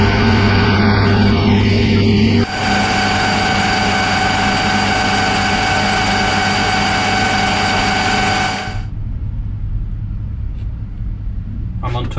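A lathe bores a hole into the main shaft of a vertical milling machine at 610 RPM, giving a loud, steady machine drone with a sharp change early on. Near the end it drops to a quieter hum.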